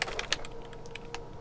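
Keys clatter on a computer keyboard in the video game The Outer Worlds, a quick burst of light taps at first, then a few sparse clicks over a low hum.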